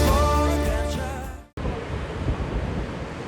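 Steady roaring wind buffets the microphone near the surf on the Esplanade at Surfers Paradise, broad and continuous, with a loud tonal noise in the first half that suddenly cuts off.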